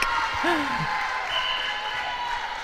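Spectators applaud and cheer at an Ireland v Israel netball match, a steady broad wash of clapping from a crowd filling the hall, with a voice rising over it briefly.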